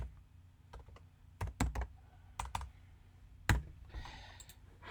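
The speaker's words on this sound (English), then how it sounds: "I'm going to type in group work." Keys tapped on a computer keyboard in a quiet room, a few short clusters of crisp clicks with pauses between them, close to the mic and fairly soft.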